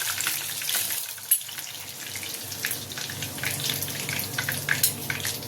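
Boneless fish kabab pieces frying in oil give off a steady bubbling sizzle, close and moderately loud, with a few clinks and knocks from the pan or utensil and no speech.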